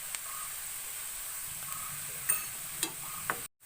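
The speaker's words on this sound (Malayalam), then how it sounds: "നമുക്കിത് നന്നായിട്ടൊന്ന് വഴറ്റിയെടുക്കാം." Onions sautéing with salt in a pan for a samosa filling, giving a steady soft sizzle and hiss with a few light stirring clicks, close and alone.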